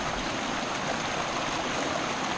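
Steady, full rush of stream water flowing on the Angelito trail in El Yunque rainforest, a continuous close wash with no talk.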